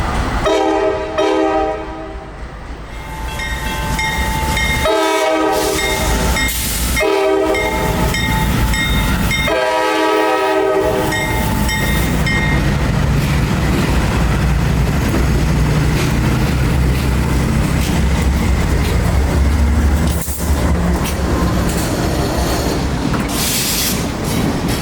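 Freight train near Bradenton passing close and loud, repeated long horn blasts in the first half followed by a steady heavy rumble of rolling wagons and wheel noise.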